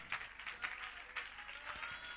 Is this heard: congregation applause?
yes